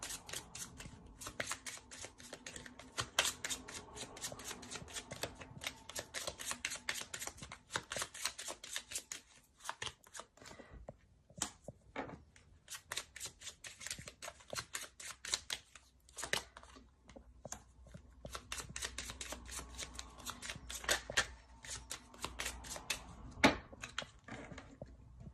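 Tarot cards are shuffled and handled in quick, crisp bursts of riffling clicks and flutters, with brief pauses between runs, close and fairly quiet.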